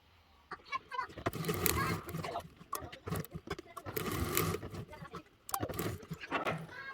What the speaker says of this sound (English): we're going to take it over to the sewing machine and we're going to top stitch the whole parameter